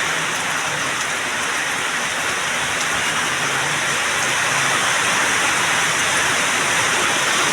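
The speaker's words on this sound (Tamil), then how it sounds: "சரியான மழை." A heavy downpour drums on the road during a cycling trip, a thick, constant roar of rain that builds slightly toward the end, close and loud throughout with no voices.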